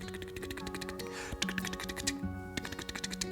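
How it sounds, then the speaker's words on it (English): Numbers from a passport being typed on a keyboard, a quick run of crisp, uneven key clicks up close, with faint background murmur and no speech. "That's him typing the numbers on the passport."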